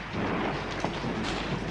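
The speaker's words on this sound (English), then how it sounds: "Look, it's only a storm." A thunderstorm roars as a dense, steady wash of rain and low rumbling thunder, loud and continuous throughout with no distinct individual cracks.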